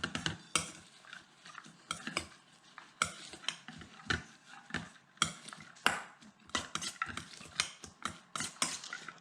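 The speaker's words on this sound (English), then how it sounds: "The lemon juice, and the soy sauce. I'm just going to mix this all together." Lemon juice and soy sauce glaze being stirred together for Asian-glazed tilapia tacos, a spoon clinking and scraping against a bowl in rapid, uneven strokes throughout, close and fairly quiet with no talking.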